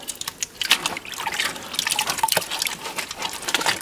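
Lime putty solution with soaking hides being stirred, giving steady wet sloshing and dripping, close and moderately loud, with no talk.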